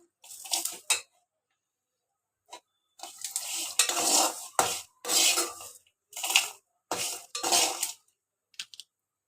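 Bitter gourd pieces fry lightly in oil in a pan, heard as bursts of sizzling and stirring scrapes with pauses between them, moderately close.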